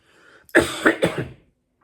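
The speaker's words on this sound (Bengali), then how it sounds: "কাশি দিতে হচ্ছে" A man with a cold and fever coughs and clears his throat in a few sharp, close bursts, three rough hacks in quick succession before falling quiet.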